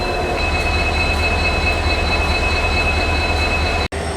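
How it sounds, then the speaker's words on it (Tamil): A train hauled by a WDP 4D diesel locomotive on the Bangalore–Goa route runs steadily, giving a continuous loud rumble with a faint wheel squeal throughout and a brief dropout near the end. "WDP 4D 40246 இந்த லோக்கோ தாங்க புல் பண்ண போகிறது"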